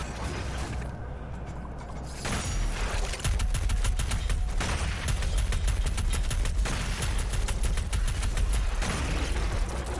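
Rapid sustained gunfire from a chain gun and other heavy weapons in the Doom Eternal video game, a dense continuous burst of automatic shots with booming impacts and explosions, loud and close with no talking.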